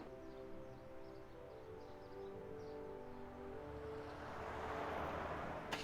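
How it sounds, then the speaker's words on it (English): Time machine engines powering up in a Back to the Future video game: a steady layered electronic hum with tonal harmonics that swells and brightens toward the end, alone and fairly quiet. "That was the sound of the time engines activating."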